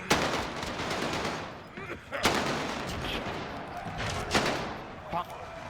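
Call of Duty Warzone gunfire crackles in several sharp bursts and single shots, moderately loud, spread across the stretch with game background between.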